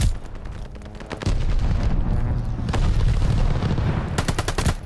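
Allied airstrike explosions in the Call of Duty: Vanguard Hardpoint match on Tuscan: heavy, booming blasts mixed with rapid gunfire rumble loudly and continuously, with a fresh burst of impacts near the end.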